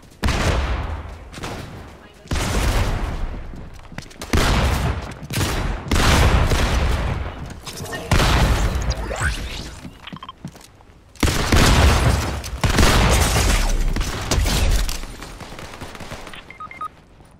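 Shotgun blasts in a video game at a gas station, a series of loud, close booming shots in irregular bursts separated by short pauses, with some talking mixed in.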